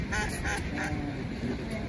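Ducks quack in a short, lively run of repeated calls close by outdoors, with faint background noise and no voices.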